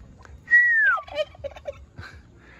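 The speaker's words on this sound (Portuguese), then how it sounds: "Olha ali o peru fazendo roda." A displaying turkey fanning its tail on a backyard poultry farm gives a loud, clear whistling call followed by a series of shorter gobbling and clucking notes, close and alone with no talk.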